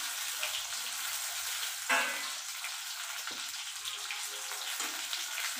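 Green chillies and mustard paste added to a hot frying pan while cooking a sour mourala fish dish: a steady, fairly faint sizzle with a brief louder hiss and a few soft stirring scrapes, no talking.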